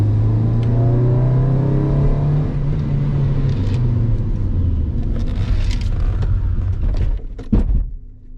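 Honda Civic EK with a D16 engine and new coilovers rolling over a speed bump, a loud engine drone that lowers in pitch and rumbles, with a few knocks and thumps near the end.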